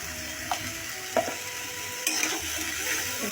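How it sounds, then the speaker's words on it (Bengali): Shrimp curry with turmeric, chilli powder and salt frying in a pan over medium flame, a soft steady sizzle broken by a few sharp spatula knocks and scrapes, close up with no talking. "এখন আমি আবারও নেড়ে নিতেছি।"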